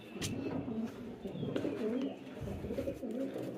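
Pigeons at a pigeon farm coo in low, repeated rolling calls close by, with occasional sharp chirps and a brief knock over faint background noise.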